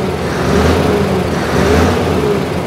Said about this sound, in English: Just a couple of more revs